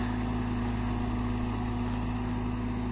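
Sonalika DI 35 tractor pulling an 8x8 harrow through water and mud, its engine a steady, loud low drone with a constant hum and no pauses.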